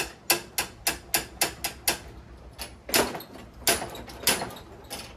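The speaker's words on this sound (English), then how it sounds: "if you keep forcefully slamming the drive bale of the mower" The drive bail of a Toro walk-behind lawn mower is slammed repeatedly against the handle, giving a run of sharp, loud metallic clacks at a steady fast rhythm, then a few slower, heavier bangs, close up with no talking.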